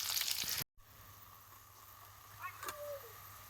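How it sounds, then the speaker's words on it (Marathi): Dried red chillies crackle and sizzle in hot oil for a dal tadka, a steady bright frying hiss broken by a brief drop-out, with faint stirring noises near the end. "आपण हे लाल मिरच्या आणलेल्या आहेत वाळलेल्या त्या टाकून घेऊ आता हे आपण मिक्स करून घेऊ असं हलवून घेऊ"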